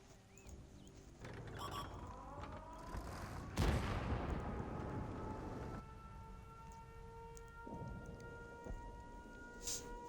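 A tank cannon in a tank battle game fires with a sharp, loud boom near the middle, which rolls into a long fading rumble over a steady engine drone and intermittent siren-like tones.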